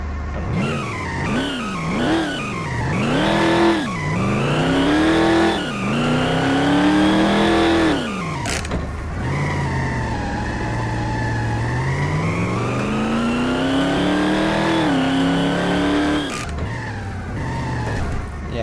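Supercharged first-generation Dodge Hellcat in the game Garry's Mod, its engine loud and close, rising and falling through repeated revs and gear changes, then pulling one long sustained acceleration with squealing tires.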